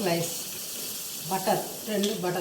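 Butter slices sizzle steadily in a pan while cooking butter chicken curry, a soft continuous hiss running under a voice speaking intermittently.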